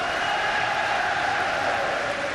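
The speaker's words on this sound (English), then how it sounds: "And listen to the crowd, unbelievable." A boxing crowd at the 1995 Steve Collins vs Chris Eubank fight roaring in a steady, dense wall of cheering and noise, loud and continuous throughout.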